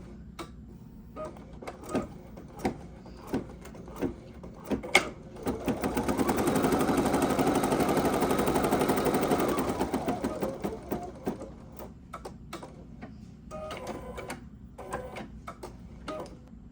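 An 880 embroidery machine stitches close by, first with rapid needle ticks, then a steady dense mechanical whir for several seconds, then back to lighter ticking with small clicks.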